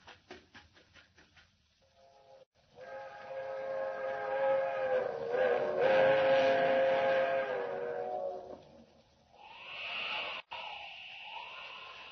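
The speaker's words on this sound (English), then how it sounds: "There's the train. Traveling fast, all right." A fast train approaching with a long, loud steam whistle blast as a 1940 radio drama sound effect, rumbling nearer and swelling, then a brief second whistle and clatter, with no voices.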